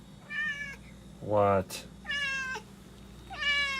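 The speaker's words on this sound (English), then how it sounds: "You silly little kitten." A kitten meows clearly several times, with a person speaking briefly between the cries.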